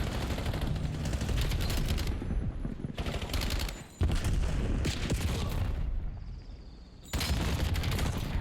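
Dense bursts of automatic gunfire from a Call of Duty League match, near and loud, in several rapid volleys separated by brief lulls, with no voices heard.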